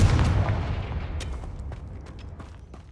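A fireball spell detonates in a wizard video game, a loud booming blast that rumbles and slowly fades, with small crackling pops trailing off.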